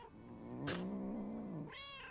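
A cat meows in the video game Lake, a long wavering cry that rises and falls, followed by a shorter higher call, close and clear over a steady low background.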